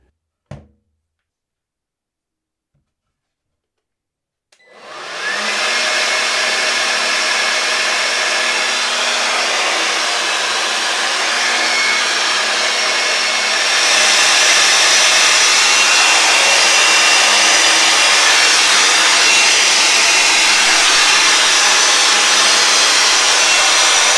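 A click, a pause, then a Parkside 20V cordless leaf blower starts up and runs with a loud, steady roaring whoosh that jumps slightly louder partway through, around 98 to 104 decibels.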